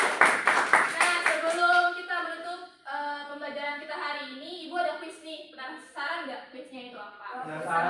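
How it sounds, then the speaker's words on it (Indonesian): Students in a classroom clap together, a burst of rapid hand claps at the start that fades into scattered claps, while a teacher and children speak over and after it. "Tepuk tangan dulu untuk kalian."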